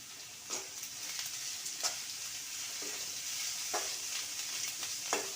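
Green chilli, ginger, curry leaves and coriander sauté in a pan with a steady close sizzle, punctuated by a few brief stirring scrapes and no talk.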